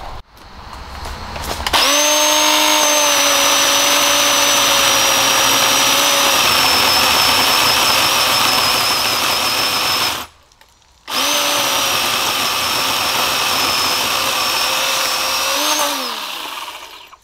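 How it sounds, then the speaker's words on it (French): An OOGarden E-Moov battery pole pruner cuts through a tree branch, its motor whining steadily and loudly for several seconds, pausing briefly, then running again before winding down. "nous allons couper cette branche ensemble"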